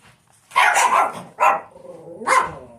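Dogs barking indoors in an apartment building: three loud, close barks, the first a longer double bark, then a short one and a final bark after a pause, with a faint whimper between, no talk.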